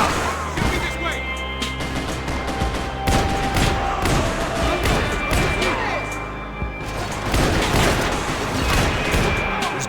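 Sustained in-game gunfire from Max Payne 3, with dense overlapping shots and bursts filling the whole stretch at steady loudness, layered with crashing impacts and game sound.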